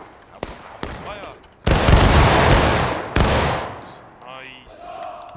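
A loud volley of gunfire fired on command, a few sharp cracks followed by a heavy, sustained burst of overlapping shots that rolls on for a couple of seconds before a final report and a fading tail.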